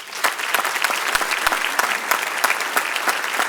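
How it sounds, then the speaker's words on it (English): An audience at a United Way of Washington County team celebration claps in a steady, fairly loud round of applause with dense overlapping hand claps throughout, and no voices stand out. "Please give them a round of applause."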